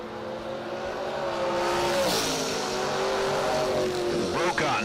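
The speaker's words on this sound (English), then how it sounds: "Brokaw with a 717 dial in the Blazer. Thorpe with a 456 dial in the Dragster" A drag race between a Blazer and a dragster, with a loud, roaring engine note that sweeps and rises as the vehicles accelerate away, heard at a distance over crowd ambience and a voice.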